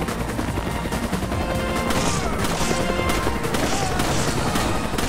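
Sustained automatic gunfire from a Resident Evil 5 Mercenaries match, a dense steady stream of shots with scattered impacts and crashes, loud and continuous throughout.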